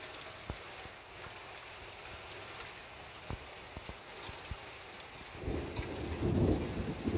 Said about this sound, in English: And that thunder comes from a different direction.